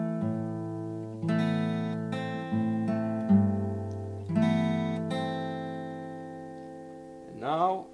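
Fingerstyle acoustic guitar plays the opening of a song: picked chords and single notes ring out one after another, close and clear, and end in a quick sliding squeak near the finish.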